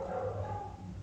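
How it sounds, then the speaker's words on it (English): Dogs barking from a home, a short burst of muffled barking and yipping heard at moderate distance, without any talking. "like magic, like every Monday, the dogs start barking"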